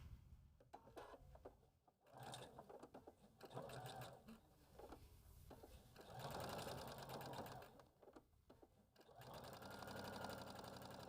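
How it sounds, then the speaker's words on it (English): A sewing machine stitches half hexie quilt pieces together with a 1/4 inch seam for a pillow, running in several steady bursts with brief pauses between them, fairly close and alone. "I'm going to pin and use a 1/4 inch seam allowance to sew those on."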